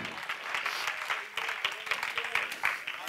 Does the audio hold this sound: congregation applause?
yes